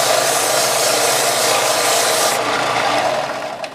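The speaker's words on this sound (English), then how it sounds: "This is a belt cleaner, and you simply turn this on like so." A belt cleaner presses against a running belt sander, making a steady, close, raspy rubbing noise. The sound holds constant for a few seconds, then eases slightly at the end.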